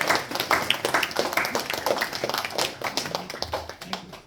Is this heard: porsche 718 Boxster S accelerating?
no